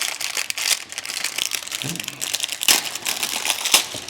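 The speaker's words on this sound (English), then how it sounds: "Let's get these unwrapped." Crackling plastic packaging is crumpled and torn off a pair of electric scooter headlights, a close, busy, continuous crinkle with sharper rustles.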